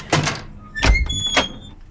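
A car door opens with a few sharp knocks and thuds spaced across two seconds, heard close in a tense dubbed film scene.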